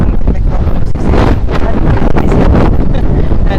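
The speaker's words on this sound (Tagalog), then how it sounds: "Medyo malakas lamang ang uh, hangin" Strong wind on a beach buffets the microphone with loud, gusty roaring, and a voice is faintly audible beneath the rushing noise.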